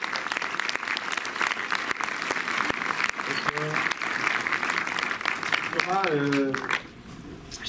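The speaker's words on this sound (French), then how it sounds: "je vous demande s'il vous plaît de réserver vos meilleurs applaudissements pour Thomas Caillet, le réalisateur du Règne Animal" Film festival crowd at a Montreuil screening applauds the director of Le Règne Animal, sustained hearty clapping from a packed room with brief cheers and voices rising through it before it cuts off abruptly near the end.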